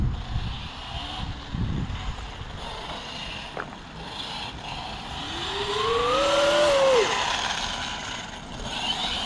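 An 8S Traxxas X-Maxx RC car accelerates outdoors, its electric motor whining in rising and falling sweeps over a rough, mechanical rattle, loudest midway through and then easing off.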